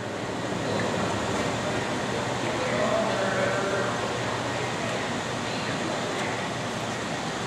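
A Leblond 31 x 144 Model NI engine lathe turns slowly at 34 RPM, giving a steady low mechanical drone and hum with no distinct clatter.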